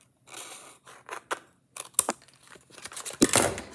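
Cardboard is cut and handled to build a bandage box, with close, irregular snips, crinkles and rustling bursts that grow louder toward the end.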